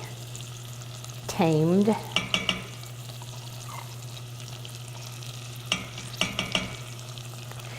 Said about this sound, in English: I like to let it brown a little bit with the onions and garlic